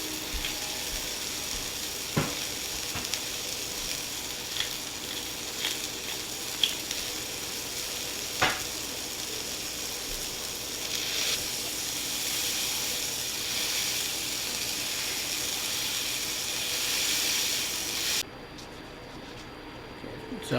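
A burger patty sizzles and hisses steadily in a cast iron pan, a loud, dense frying crackle with a few sharp pops and clicks, continuing almost the whole time before dropping off abruptly near the end.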